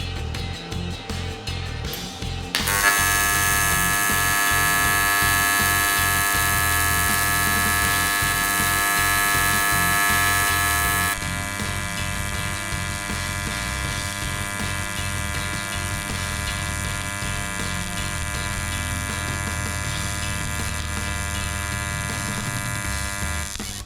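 A welder lays a bead on aluminum, a steady loud electric buzz with a sharp arc start that holds evenly, then shifts slightly in tone partway through and continues without pause.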